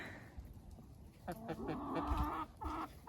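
Hens cluck in a chicken coop, a few soft, close clucks and short calls bunched in the latter half, fairly quiet over a low background murmur.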